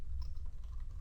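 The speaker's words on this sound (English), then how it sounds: "So I'm going to type list" A computer keyboard is typed on, with a few soft key clicks close by over a low background hum.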